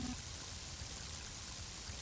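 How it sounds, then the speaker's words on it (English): Heavy rain from the video game Mother 3 falls as a steady, dense hiss with a soft pouring, trickling texture, continuous and even throughout at low volume, with no voices. "A mighty heavy rain"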